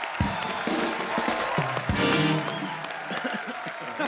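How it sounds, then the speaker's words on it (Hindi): Enthusiastic studio audience applause at a comedy talk show, dense clapping mixed with cheers, with a voice and some music heard over the crowd. "जोरदार तालियां"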